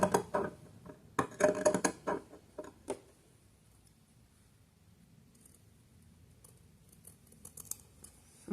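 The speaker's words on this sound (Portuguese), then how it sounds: "Cortar próximo o suficiente para não soltar a costura." Scissors snip through knit fabric close to a sewing-machine seam, a burst of crisp cuts in the first three seconds, then near quiet with a few light clicks.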